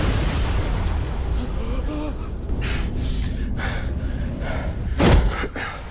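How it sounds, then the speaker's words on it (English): A blast in a dramatic cyberpunk story scene, a sudden loud burst near the end landing as a heavy thud with a crackling rush, after low rumbling tension and gasping, breathy vocal sounds. "The blast from the explosion sent me flying."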